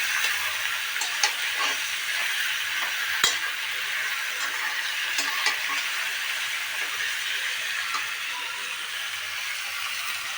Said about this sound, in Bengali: এবার আমি এই মাংসটা দিয়ে দেবো, দিয়ে একটু ভালো করে ভেজে নেব আগে